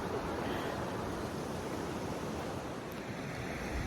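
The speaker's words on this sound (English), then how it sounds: "check out this beautiful river" A river rushes steadily outdoors on a warm day near Abiquiú, New Mexico, its continuous broadband wash filling the background with light wind noise mixed in.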